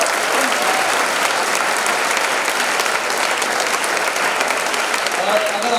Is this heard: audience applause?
yes